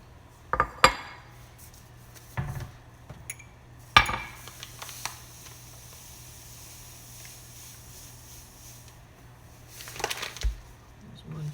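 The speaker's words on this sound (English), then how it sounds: "I'm going to go ahead and measure out my sugar" Sugar is measured into a bowl while making chocolate peanut butter candy, and dishes give off several sharp clinks and clatters in separate bursts, with quieter handling between them and some talk.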